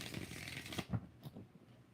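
Tarot cards are shuffled close up in a quiet room, a soft papery riffle that builds into a few distinct flicks and taps before fading.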